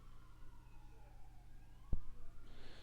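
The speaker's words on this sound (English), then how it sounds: "I make this video while there's sirens outside." Faint, distant sirens wail and sweep outside at night in the Detroit area, a thin rising-and-falling tone over a quiet low hum.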